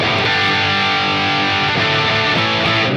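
A distorted electric guitar played through a Marshall amp sounds loud and saturated, with a dense sustained chord that changes a couple of times over a few seconds.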